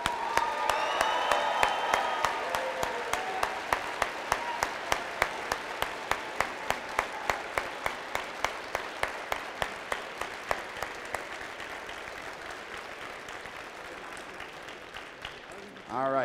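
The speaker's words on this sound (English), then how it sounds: "let's give a rousing, loud, bright and early in the morning round of applause" An audience in a room at a 2017 FIRST robotics district event opening ceremony applauds, a loud wash of clapping that settles into steady rhythmic unison claps and slowly tapers over many seconds.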